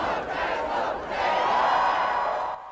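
A huge crowd at a referendum rally roars and chants in a steady, dense wash of voices that swells in the middle and holds for a few seconds.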